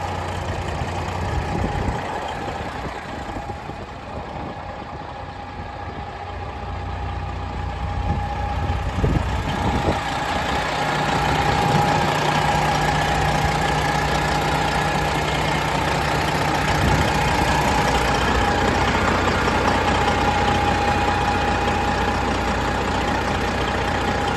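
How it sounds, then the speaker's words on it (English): A factory Detroit engine idles in a 2014 Peterbilt 389 flattop glider, a steady low diesel hum that grows slightly fuller partway through and holds at a moderate level. "Factory Detroit engine."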